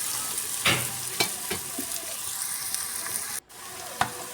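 Chopped onion with salt fries in a pan as a spatula stirs it, a close continuous sizzle marked by several scraping strokes and one abrupt momentary break before the frying resumes.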